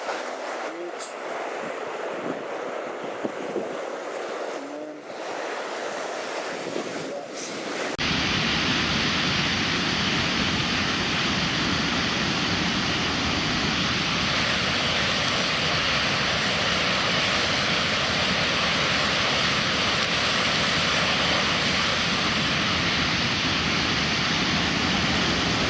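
Nevada Falls on the Merced River in Yosemite roars as a loud, steady broadband rush of falling water, continuous and close after a quieter opening with faint wind and movement.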